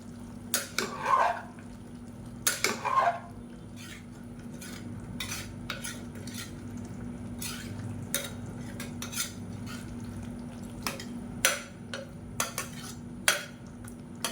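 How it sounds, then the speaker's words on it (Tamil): Paneer biryani is stirred in a pot, with two clusters of metal scraping clanks early on, then sparse light spoon taps over a low steady hum, fairly quiet and close. "பன்னீர் சேர்த்துட்டு நல்லா சாஃப்டாக கிளறி விட்டுக்கலாம்."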